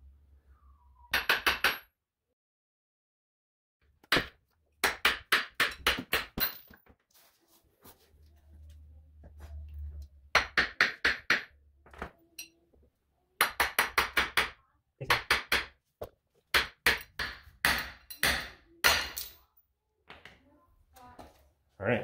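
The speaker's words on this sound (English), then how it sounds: "what I ended up having to do on this one is pound this one back up so that I could get the U-joint out" A hammer pounds a drive shaft yoke on a double cardan shaft to free a U-joint, giving loud metallic strikes in rapid clusters of four to eight blows. Pauses fall between the clusters.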